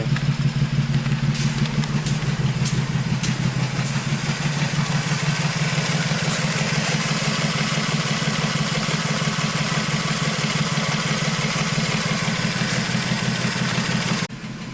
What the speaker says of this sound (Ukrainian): Якось так працює двигунчик.